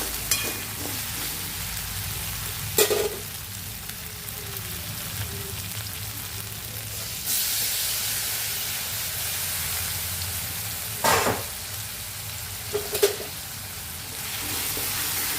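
Chopped tomatoes hiss steadily in a pan of browned onions and ghee for palak paneer, with a few sharp spoon clacks against the pan and no voices.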